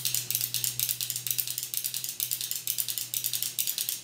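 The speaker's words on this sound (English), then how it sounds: "The clicky sound we all know and love" A somewhat dirty stock Sanwa arcade joystick with an Octagate gate produces a rapid, steady stream of sharp plastic microswitch clicks, close and dry, with no voices for about four seconds.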